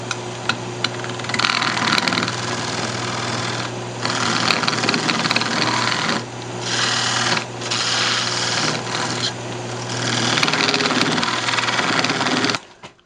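A wood lathe spins while a natural edge wooden candy dish is parted off, making a loud, steady whirring hum broken by scraping cutting bursts and brief pauses.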